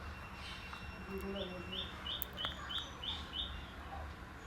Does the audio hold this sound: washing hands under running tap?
no